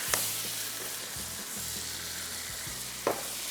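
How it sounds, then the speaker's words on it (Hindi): Beef stew frying on high heat, a steady close hiss and sizzle with a faint stirring scrape or two, continuous and moderately quiet with no talking. "इसके बाद अब इसको हमने तेज़ आंच पे फ्राई करना है"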